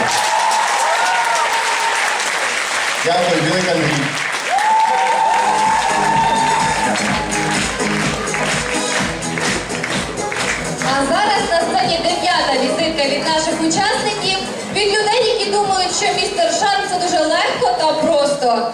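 Loud sustained applause from a student contest audience at the Mister Charm VNTU 2016 pageant, mixed with some cheering, while a presenter speaks over the clapping throughout.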